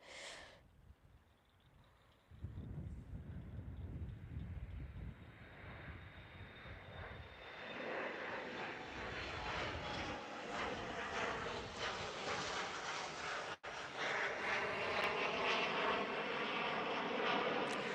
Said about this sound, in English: Right now we have an E-175 long range operated by United Express 6241 off to St. Louis.